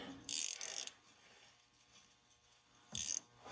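A ratcheting wrench working catalytic converter bolts on a 2011–2020 Dodge Grand Caravan gives two short bursts of close, rapid metallic clicking separated by a quiet pause.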